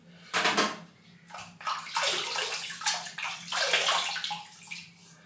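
Water from a tap runs and splashes while a shaving brush is wetted, coming in several uneven gushes and sloshes, fairly close.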